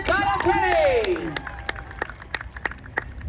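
Crowd applause for a third place finisher at a pure stock race at Claremont Motorsports Park; a voice speaks over the start, then scattered claps ring out near and distinct, thinning out toward the end.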